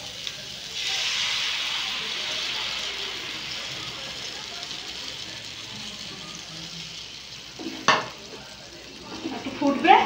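Prawn malai curry with coconut, frying in oil as strained coconut water is poured in: a steady, bright sizzle and hiss throughout, with a sharp clatter near the end and louder bubbling and spattering as it closes.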